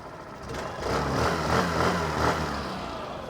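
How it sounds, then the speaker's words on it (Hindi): A Suzuki Avenis scooter engine is revved with the throttle, rising from a steady idle into two or three swelling bursts of louder engine roar before settling back down, close and unaccompanied by speech. "थ्रॉटल देता हूँ अब मैं।"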